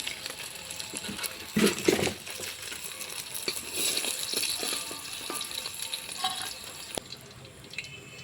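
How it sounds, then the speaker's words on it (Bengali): Paneer cubes frying in hot oil in a pan, a steady sizzle with watery hiss, brief clinks and a louder spatter burst early on, close and fairly quiet. "পনিরগুলোকে ভালোভাবে ভেজে নিলাম"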